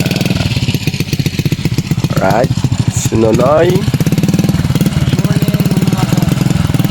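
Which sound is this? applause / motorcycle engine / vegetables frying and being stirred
motorcycle engine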